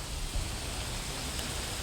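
Rain falls steadily as a continuous, even hiss with no distinct drops or voices standing out.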